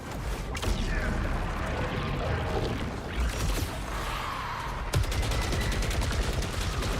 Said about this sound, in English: Man, this smart gun does not do damage.